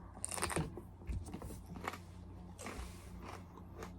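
Crunchy bites into a thick-walled Peter Pepper, close and fairly quiet, with several crisp snaps followed by chewing and crackling.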